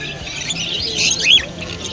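Several small exotic pet birds chirp and tweet in quick, overlapping bursts against a low background murmur at a bird market in Dakshineswar, Kolkata.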